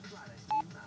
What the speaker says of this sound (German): gehen mal gleich an unser Handy ran